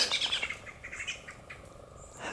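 High, thin blackbird chirps repeat in quick bursts, fairly faint against a soft outdoor hiss in an autumn woodland garden, with no voices.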